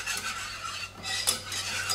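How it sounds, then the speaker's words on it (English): A whisk rapidly scrapes and clatters through a flour-and-fat roux in a pan, a near, continuous metallic stirring with a faint sizzle underneath, no voices. "what you want to do is you basically just want to whisk this"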